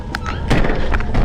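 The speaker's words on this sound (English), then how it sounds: "another door just closed" A door swings shut on its own in a secluded corner of a forest, a brief scrape followed by a dull thunk, close and fairly loud, with no voices.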